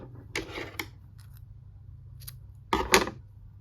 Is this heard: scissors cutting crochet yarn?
yes